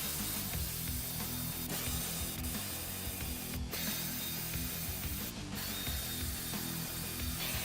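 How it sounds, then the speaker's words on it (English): A hand ratchet clicks steadily while loosening the bolts that fasten a Hellcat supercharger to the cylinder heads on a Ram TRX engine, with continuous fast pawl ticking, close and fairly quiet, and two brief pauses. "Next, you remove the 10 bolts that bolt the supercharger to the cylinder heads."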